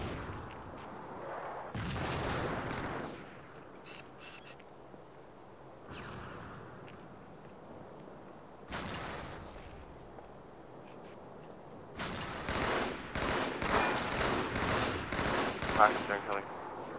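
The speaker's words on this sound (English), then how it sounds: "Rockets are incoming." Incoming rockets and explosions in a video game sound as repeated booming blasts and crackling bursts, some distant and some closer, with a dense volley near the end and faint voices in between.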